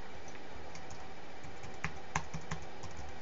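Keystrokes on a computer keyboard while code tests are written, a quiet run of soft clicks with a few sharper, louder taps near the end, fairly close and without speech.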